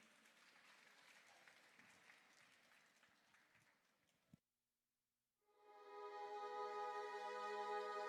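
An audience at a historical Jain stage drama breaks into applause: a dense, steady clatter of many hands that ends abruptly, followed by a short silence before a sustained tonal music-like passage begins.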